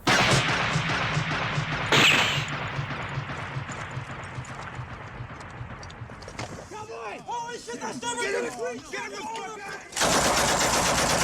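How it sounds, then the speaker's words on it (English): A sniper's gunshot from the film Full Metal Jacket cracks loudly and echoes amid a dense wartime soundtrack, with a sharp burst near the start, a second loud onset late on and voices shouting in between. "We get a Western-style zoom from the sniper's POV, and the gunshot echoes."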